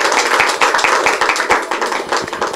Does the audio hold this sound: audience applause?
yes